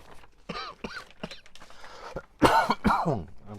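A few harsh coughs and throat clearing, close by, with a louder cluster of coughs near the end after quieter ones.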